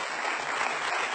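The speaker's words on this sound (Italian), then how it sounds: "Continuiamolo questo applauso" A short, dense burst of studio audience applause on an Italian television music show, loud and even throughout with no voices.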